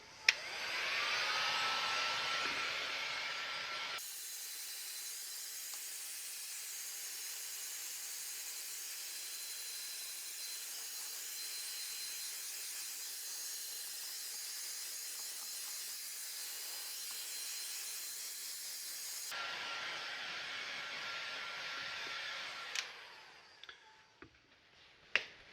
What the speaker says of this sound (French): passer au décapeur thermique pour bien fixer la température